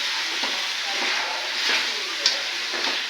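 Chicken roast being stirred in a hot pan, a continuous bright sizzle with soft scraping strokes of the spoon repeating every second or so, close and steady.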